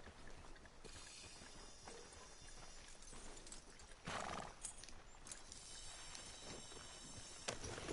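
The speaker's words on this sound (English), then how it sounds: "I rode a freaking tiny horse" A small horse in Red Dead Redemption 2 trots along with steady clip-clopping hooves and a whinny, set against an ambient outdoor game soundscape, moderately loud and continuous.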